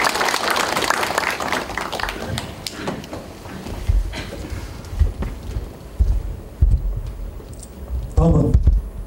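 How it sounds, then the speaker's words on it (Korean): Audience applause at a Korean veterans' association anniversary ceremony and year-end gathering, a dense patter of clapping that thins out, mixed with scattered clicks and a few bursts of voices. "박수 많이 주시기 바랍니다."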